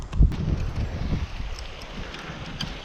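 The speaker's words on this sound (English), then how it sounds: "Wind is getting quite chilly." Chilly winter wind buffeting the microphone while bass fishing outdoors, a steady low rumbling roar with a few heavier gusts early on, loud and close with no talking.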